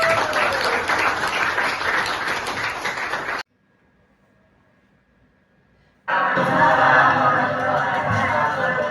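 Audience applause at a school presentation: dense, loud clapping from a crowd, a break of near silence, then a second burst of vigorous clapping just as loud.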